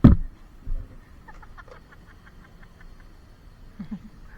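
A chicken pecks: a quick run of light, close taps forms a brief rhythmic patter. It starts after a heavy thump, then a soft cluck-like sound comes near the end, all over quiet background.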